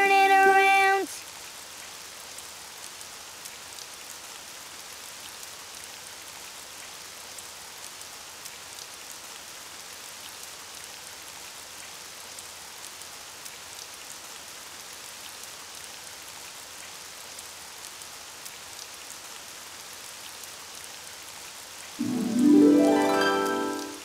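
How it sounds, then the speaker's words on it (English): Cartoon rain falls steadily outside, a soft even hiss of drops that runs unbroken for most of the stretch, with short bursts of music or voice at the start and end. "Oh, it's raining outside."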